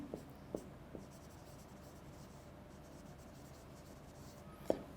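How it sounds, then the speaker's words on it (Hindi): Pen or marker writing by hand during an online lecture, a faint continuous scratching with a few soft taps near the start and a sharp tap at the end, no talking over it. "मैं दोबारा इसको लिख देता हूं।"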